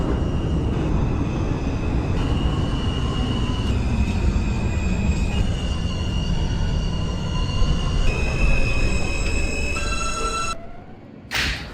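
A simulated New York subway R train runs with a heavy, continuous rumble as its motors whine in rising and stepping tones, then the noise drops sharply near the end with a brief burst after.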